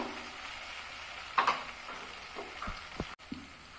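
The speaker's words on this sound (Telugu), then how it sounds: "ఇప్పుడు చూడండి, టమాటా మొత్తం ఫ్రై అయిపోయింది" Tomatoes frying in a pan for aloo curry, a faint, steady sizzle with a few soft scrapes and clinks of stirring, and no voices.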